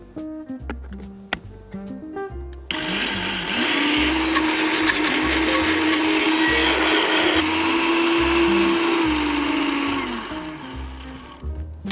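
After a few knocks and taps, a blender whirs up loudly and runs steadily for about nine seconds, blitzing basil pesto with extra virgin olive oil in a Genoa kitchen, then winds down.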